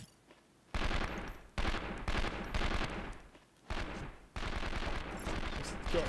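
Bursts of assault rifle fire in the video game 24, loud sustained volleys with brief pauses between them, close and dominant.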